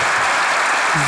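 Studio audience on a Turkish TV game show breaking into applause, a brief dense burst of clapping with a voice just starting at the end.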